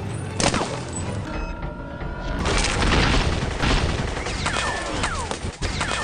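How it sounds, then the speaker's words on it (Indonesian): Heavy gunfire and explosions in an action movie scene as a man in an armoured steel suit is showered with bullets, loud booming blasts and rapid shot bursts filling the whole stretch without speech. "Meskipun dihujani peluru"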